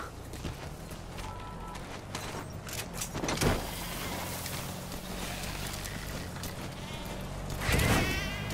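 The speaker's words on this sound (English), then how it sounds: "Foiled by a sheep." A sheep in MGSV: The Phantom Pain bleats over steady game ambience, a couple of wavering calls rising out of the background at mid distance.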